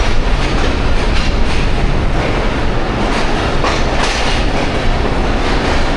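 The Jaffar Express, hauled by locomotive ZCU 26407, runs at speed between Attock and Rawalpindi. A loud, steady roar of wheels and carriages carries a rhythmic clickety-clack throughout, with no talking.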